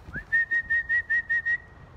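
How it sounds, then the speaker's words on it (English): A person whistles a short rising note, then a rapid run of about seven repeated steady-pitched whistle pulses, close and clear. "I'm usually whistling."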